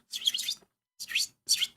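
Birds chirp outdoors in three short bursts of high, bright tweets separated by brief pauses, fairly close and clear.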